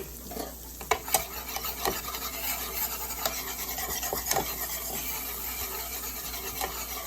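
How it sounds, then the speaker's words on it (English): A spoon rasps and scrapes while stirring flour into a spinach artichoke dip sauce in a pan, making a continuous gritty rubbing with sharp scraping strokes over a low sizzle. No one speaks. "But you want to stir so that it doesn't clump up on you."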